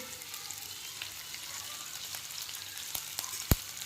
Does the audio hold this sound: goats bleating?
no